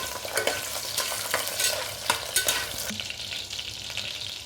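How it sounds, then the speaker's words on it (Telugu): Potato pieces with cardamom, cloves and bay leaf frying in hot oil for veg biryani, a steady close sizzle with scraping stirring sounds throughout. "బంగాళదుంప ఆయిల్లో వేసుకొని వేగించుకోవాలండి"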